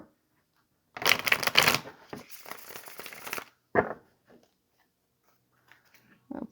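Tarot cards are shuffled close by in a quick riffle, with a few softer card taps and rustles after it.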